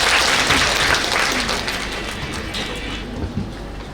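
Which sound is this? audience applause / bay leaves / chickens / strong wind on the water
audience applause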